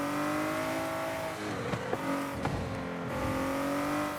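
Racing car engine in the Forza Horizon 5 video game, a loud, steady roar with brief shifts and dips as the revs change, heard alone without talk.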